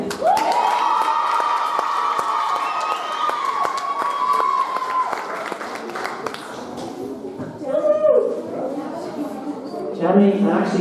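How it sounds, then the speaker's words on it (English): Crowd cheering for Jenny at a women's group presentation: a sustained, voiced group cheer rising and holding for several seconds, then fading into scattered shouts and brief bursts of voices. "And one big final cheer again for Jenny."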